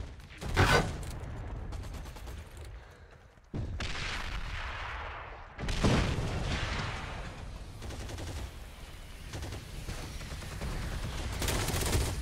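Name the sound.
gunfire in a video game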